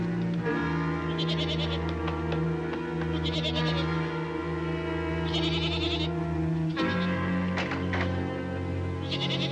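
Goats in a corral bleat repeatedly in wavering, nasal calls, several overlapping, over a steady low farmyard hum.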